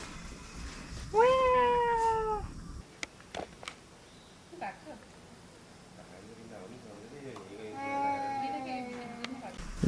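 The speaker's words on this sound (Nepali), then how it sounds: "वन बिरालो" A jungle cat at a zoo in Pokhara gives two drawn-out meows, a loud nearby one early on and a softer one near the end, with footsteps and scattered background sounds in between.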